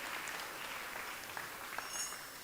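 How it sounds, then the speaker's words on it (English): A crowd claps steadily at ISKCON Phoenix's New Jagannath Puri Temple, a dense patter of applause at moderate distance, with no talking over it. "give yourself a big round of applause for sponsoring those things"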